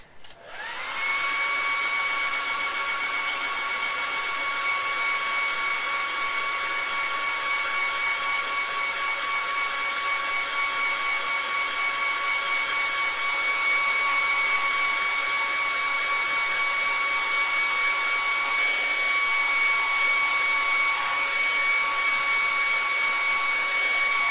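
A hair dryer blasts steadily at close range to dry paint on a Warhammer Conquest Reiver miniature, a constant loud whine that holds for over twenty seconds with no talk.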